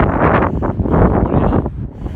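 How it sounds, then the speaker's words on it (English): Strong storm wind buffets the microphone in continuous rumbling gusts, loud and close, with no other sounds. "Oh, it's a pretty windy one."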